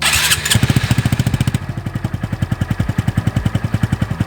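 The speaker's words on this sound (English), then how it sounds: "And here goes the first startup just as it comes out of the box." A Honda Grom motorcycle with its stock, out-of-the-box exhaust starts up and idles. A quick cranking burst settles into a steady, even, thumping putter that stays close and moderately loud throughout.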